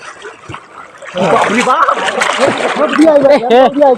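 A person bathes and splashes in knee-deep river water while loud voices shout and talk over the sloshing for most of the clip.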